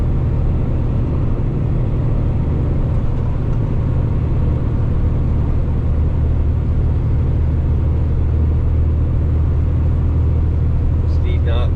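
Kenworth T880 heavy truck engine pulling uphill in 14th gear while hauling a heavy load, a loud continuous low rumble and drone heard from inside the cab for the whole stretch, with no break.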